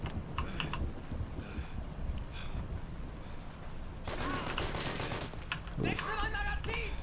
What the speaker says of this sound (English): A whole lot of gunfire coming out